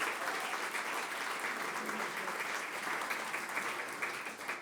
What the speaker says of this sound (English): Round of applause, please, for Ambassador Cronin.